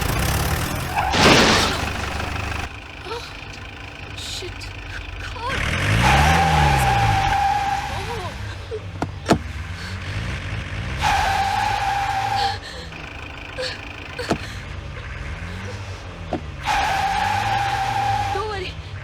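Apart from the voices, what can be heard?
car engine reversing and tires skidding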